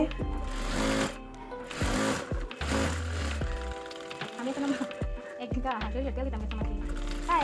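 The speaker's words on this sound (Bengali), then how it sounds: "এখন সেলাই দিয়ে নিচ্ছি" A sewing machine stitching a kameez sleeve runs in loud, rattling bursts that start and stop, heard under continuous talking.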